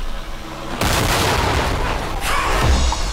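Movie set explosions and pyrotechnic blasts erupt loud and close, a sustained roaring barrage of booms and crackling gunfire-like bursts during an action stunt scene with a wheelbarrow.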